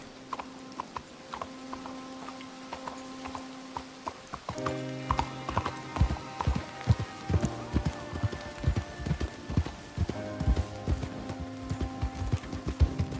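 Horse hooves clip-clop on a trail in the Red Dead Redemption 2 video game, a slow walk that picks up into a busier, louder rhythmic gait, with a brief snort.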